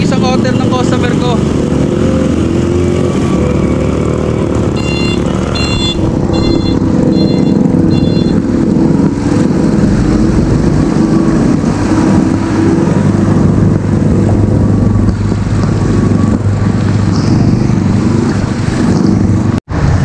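Motorcycle ride on a delivery run through flooded streets in Navotas, with a steady engine drone and road rumble close to the microphone throughout, while someone talks over it in places.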